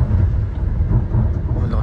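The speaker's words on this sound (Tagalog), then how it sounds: "Grabe na yung hangin yung mga nyug sumasayaw na." Heavy, rumbling wind roars steadily against the microphone, loud and close, with no other distinct sounds breaking through.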